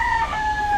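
A gamefowl rooster at Red Game Farm gives a short, steady crow held on a sustained tone, close and clear against a faint farmyard background.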